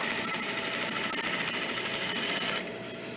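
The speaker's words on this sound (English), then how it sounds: "We're going to do a little edge stitch." A sewing machine runs steadily as it edge stitches a collar into a bodice, a fast even whirring chatter held close and loud for about two and a half seconds before it stops abruptly, leaving only faint room tone.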